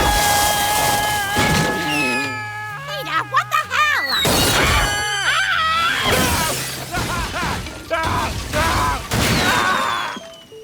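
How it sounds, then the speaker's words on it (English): Loud crashing and shattering of windows ring out over a busy cartoon-style music score, with a few sharp smashes standing out amid chaotic clatter. "He shattered windows, destroyed furniture, and even crashed his own car."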